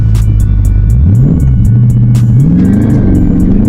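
A Dodge 392 Scat Pack launches hard from a stop, its V8 snarling loud and close, climbing through rising revs with a brief dip at a gear change before pulling up again.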